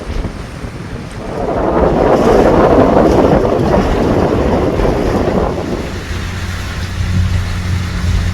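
Waves slap broadside against a shanty boat near the Okeechobee cut, a loud rushing wash that builds and rolls on under heavy wind buffeting the microphone, with no talking.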